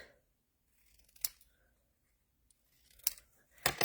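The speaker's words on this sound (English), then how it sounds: "I'm going to cut a little more off of this side." Scissors cut through craft paper in a few short, close snips separated by quiet pauses.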